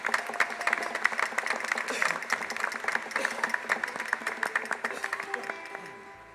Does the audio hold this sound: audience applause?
yes